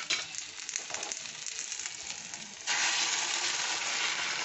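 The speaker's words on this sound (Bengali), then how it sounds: "এইবার আমি ফেটানো ডিমটা দিয়ে দেবো।" Beaten egg seasoned with salt hits a hot pan, a steady sizzle that suddenly swells louder and brighter partway through and holds as a dense, close crackle.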